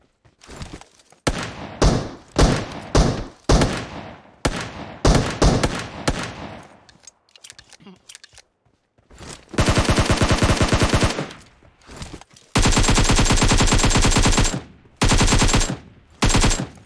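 AK rifle gunfire in a video game, first as loud single and paired shots in quick succession, then long sustained full-auto bursts, close and dominant with no talking over it.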